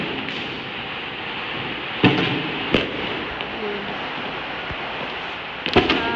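Fireworks and firecrackers on the last day of Chinese New Year: a few sharp bangs stand out over a steady hiss of distant crackling and smoke-filled outdoor din, with scattered pops between them.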